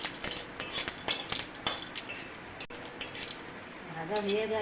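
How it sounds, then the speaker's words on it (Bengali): Panch phoron with black cumin, radhuni, fennel and torn dried red chilli fries in a pan, giving a soft sizzle broken by light clinks and stirring scrapes at close range. "ভাজা হয়ে গেল পাঁচফোড়ন"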